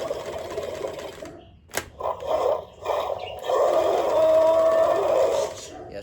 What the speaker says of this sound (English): if you press it, you'll chomp, and then after a few seconds, his head will shake. It makes crazy noises.